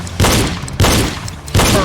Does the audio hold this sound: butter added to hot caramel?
no